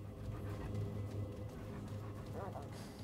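Dogs panting in the video game Remnant 2, a steady breathy rhythm running through the whole moment under a low game soundscape, with a brief whimpering sound near the end.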